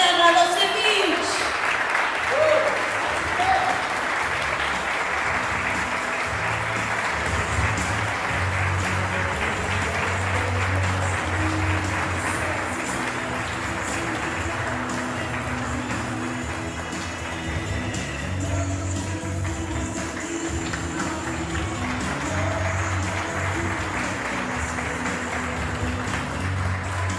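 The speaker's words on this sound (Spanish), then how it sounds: "Recibimos con un fuerte aplauso a Gisela Radosevich." Audience at a community commemoration ceremony applauding warmly after a woman is introduced, a sustained wash of clapping that stays fairly even throughout, with some talk and low background sound mixed in.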